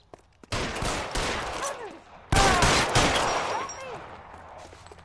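Gunshots in the L.A. Noire video game: sharp, loud cracks with echoing tails ring out in a few separate bursts, with game dialogue faintly in the background.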